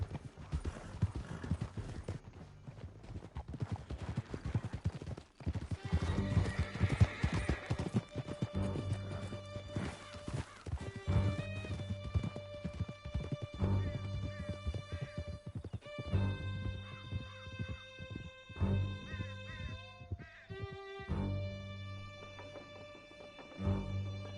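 Horses in Red Dead Redemption 2 gallop with steady rhythmic clip-clop hooves, joined by several loud whinnies and neighs over game music and ambience, continuous and close for most of the stretch.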